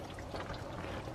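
Coolant pouring out of a 5th-generation Chevrolet Camaro radiator during a flush, a steady, faint liquid gush with no voices.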